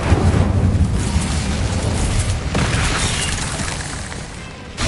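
A fiery blast from the Incendio spell in the Hogwarts Legacy video game, a loud sustained booming roar with wind-like rushing noise that fills the whole clip and swells again near the end.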